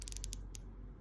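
Sea Raven diver watch's one-direction bezel turned by hand, giving a quick run of about six crisp ratchet clicks, then a pause and one more click, close and quiet.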